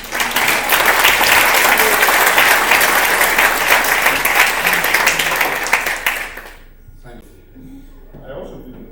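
An audience at an expert forum on obesity treatment bursts into sustained, loud applause that holds for about six seconds, then fades out abruptly into near quiet with a little faint murmuring.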